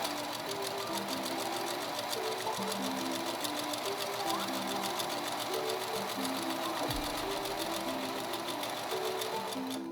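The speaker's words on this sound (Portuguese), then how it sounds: "Vou costurando devagar." A sewing machine runs steadily and slowly, stitching fabric for a cloth doll, its even mechanical hum and needle rhythm continuous and close throughout with no talking.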